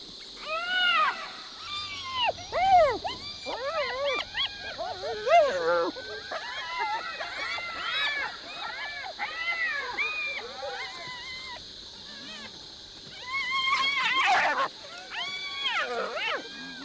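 African wild dog confronting a hyena at night on Chief's Island, Botswana, a busy mix of high twittering calls, yelps and whoops in rapid overlapping bursts, fairly close, with a lower rumble early and a loud flurry near the end.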